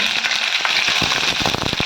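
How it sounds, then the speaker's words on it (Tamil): Green chillies sizzle and pop in hot oil in a home kitchen, a loud, dense fry hiss broken by sharp crackles and bursts. "பச்சை மிளகா வெடிக்கும் கொஞ்சம் பார்த்து நிதானமாக செய்யும்"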